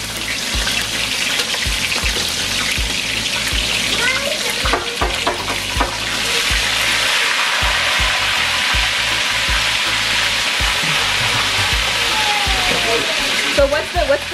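Steady, loud sizzling and crackling of fish frying in hot oil fills the whole stretch, with occasional clinks and stirring noises and brief low voices in the background.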